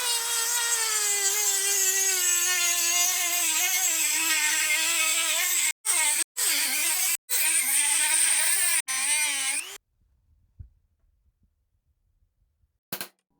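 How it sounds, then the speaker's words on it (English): A Dremel rotary tool cuts through mild steel on a Ford tractor PTO part, a loud steady high-pitched whine that wavers in pitch, broken by a few brief stops and then cut off near the end. "so I broke out the Dremel."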